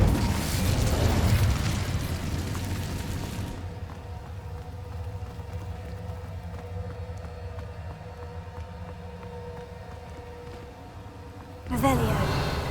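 Incendio fire spell cast in the video game Hogwarts Legacy, a loud roaring, crackling burst lasting a few seconds, then a quieter stretch of low background hum before another sharp blast near the end.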